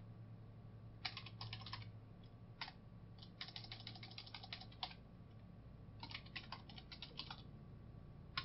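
Keys clatter on a computer keyboard in quick bursts, with pauses between runs of typing, close and fairly quiet over a low steady hum.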